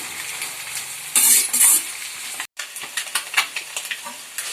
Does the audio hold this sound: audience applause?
no